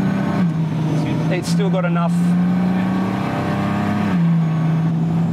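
A car cruises on a freeway in manual mode, its steady engine drone humming low and constant throughout, with people talking inside over it.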